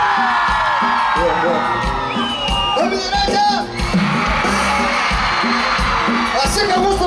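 A concert crowd at a show shouts, whoops and cheers continuously and loudly over band music, while a performer calls out to the audience over the noise.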